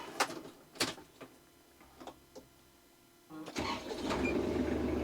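A few clicks and clunks, then a Kubota KL 34Z compact tractor engine cranks and catches at about three seconds, settling into a steady idling rumble nearby.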